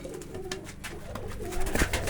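A pigeon coos nearby in low, throaty warbles while being handled for vaccination, with some faint handling noise around it.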